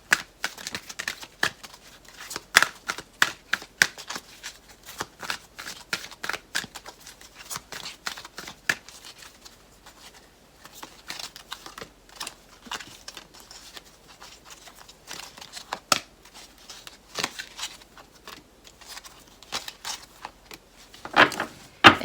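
A deck of oracle cards being shuffled by hand, producing rapid riffling flutters and soft slaps in irregular bursts throughout, close and fairly quiet with no talking.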